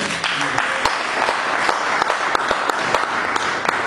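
A church congregation breaks into steady, dense applause, with many hands clapping in an even rhythm for the whole stretch and sharp individual claps standing out above the crowd.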